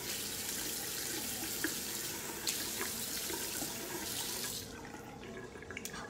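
Water runs steadily from a sink tap while a face is washed, a close continuous splashing rush that drops off near the end into a few soft drips and handling noises.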